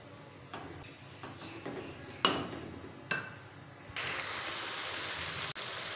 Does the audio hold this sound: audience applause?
no